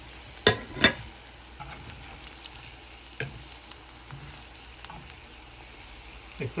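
Liver singara fry slowly in oil on low heat, giving a soft, steady sizzle with a few sharper pops and stirring clatters near the start. It is fairly quiet and close, with no talking.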